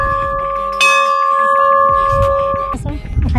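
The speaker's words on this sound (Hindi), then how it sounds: "ये बड़ा सा एक घंटा है। चलो इसको जाकर बजाते हैं" A large entrance bell at Bayana fort in Bharatpur, Rajasthan, struck once up close, giving a loud metallic clang with a long ringing, humming tone that sustains for about two seconds before fading out amid background noise.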